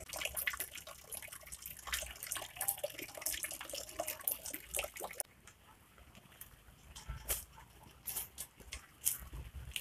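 Rain pattering steadily outdoors, with a dense, hissy wash of drops that thins slightly partway through, plus scattered louder splashes and drips; no voices are heard.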